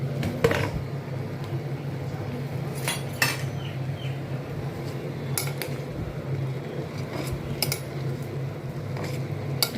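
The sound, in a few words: adding amaranth greens to boiling chana dal and onion kootu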